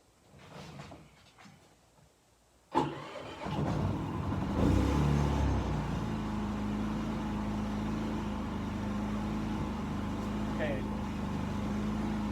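A Harbor Freight inverter generator starts with a sudden thump after some faint handling noises, then settles into a steady, moderately loud engine hum at full throttle, close and continuous without talk.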